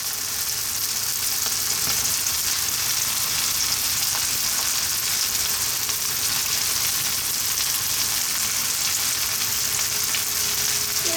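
Mushrooms sizzle in a pan for a cream pasta, a steady, dense crackling hiss that stays even and close throughout.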